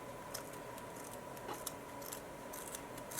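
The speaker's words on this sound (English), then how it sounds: "See, and my scissors are pretty sharp, but they don't go through that very well." A few quiet, sharp snips of scissors cutting knitted yarn against a faint steady background hum.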